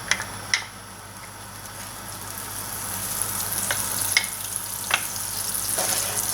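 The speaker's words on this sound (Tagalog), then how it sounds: "Painitin lang natin itong pan and then ilagay na natin yung ating butter." Butter melting in a hot pan while cooking sisig gives a steady, soft sizzle throughout, with a few sharp pops and crackles scattered across the sound.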